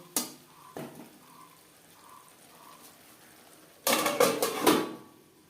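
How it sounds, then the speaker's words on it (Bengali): A spice masala for a rohu fish and bottle gourd curry stirred in a pan with a little water, a few scattered metal scrapes followed by a burst of louder clattering stirs near the end, no voices. "দিয়ে দেবো সামান্য পরিমাণে জল মশলাতে পুড়ে না যায় তিন চার মিনিট নাড়াচাড়া করে নেব"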